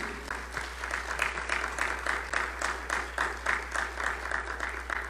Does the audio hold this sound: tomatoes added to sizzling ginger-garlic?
no